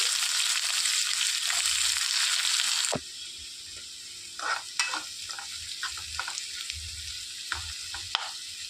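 Finely chopped onions fry with a tablespoon of cumin and curry leaves for an egg tomato curry: a loud hot sizzle for three seconds, then a quieter steady crackle broken by stirring scrapes.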